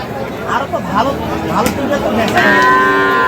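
Sahiwal cattle at a busy bull market low loudly nearby, a long drawn-out moo rising over steady crowd chatter and people talking in the background.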